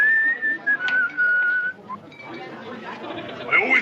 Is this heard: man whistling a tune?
yes